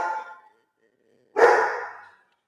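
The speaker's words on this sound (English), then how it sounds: "Excuse the dogs. Pardon the dogs." Several dogs bark indoors, one short burst of barks followed after a pause by a second louder, closer burst of barking.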